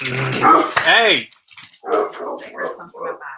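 A dog barks loudly a few times up close, then a person talks over the quieter background.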